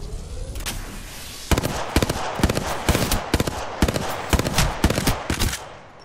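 Gunfire in the video game Apex Legends, a quick series of sharp close shots in irregular bursts after a quieter opening, fading slightly toward the end.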